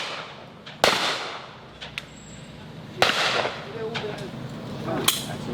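Shotgun blasts at a clay shooting school: three sharp, loud reports spaced a couple of seconds apart, each with a short ringing decay outdoors.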